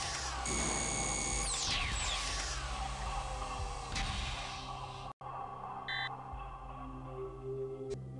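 An emergency door release mechanism in the 1995 video game Buried in Time: dense mechanical whirring and sliding tones with sweeping pitch, a sudden cutoff, then short electronic beeps over a low hum.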